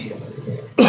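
A single sharp, loud cough bursts out near the end after a moment of quiet low background murmur.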